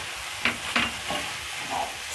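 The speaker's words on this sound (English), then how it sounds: "Stir in the carrots." Carrots being stirred into sizzling meat with leek and red onion for okra stew, a few short scraping stirs over a steady soft frying hiss, with no talking.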